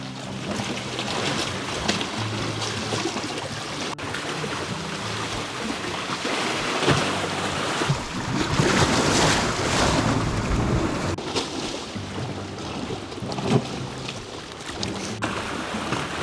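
Steady wind and surf wash along a rocky, slippery Lake Superior shore on a calm day, a continuous broadband rush that swells and eases gently without breaks, with no voices.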